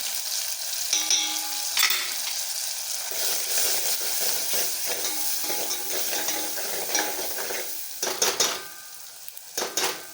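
A spoon stirs red chili powder, garam masala and turmeric with tomatoes in a hot pan, a continuous sizzle broken by irregular scraping and metal clinks against the pan, close up.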